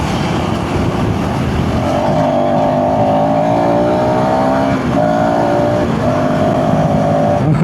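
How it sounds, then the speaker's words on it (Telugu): A KTM ADV 350 adventure motorcycle engine pulls hard under acceleration while riding. Its steady drone rises in pitch through a few gear stretches, loud and close, with wind and road noise underneath and no talking. "ఓవర్టేక్ చేయాలంటే మాత్రం ఆ ఇంజిన్ పుల్ మాత్రం బాగుంది."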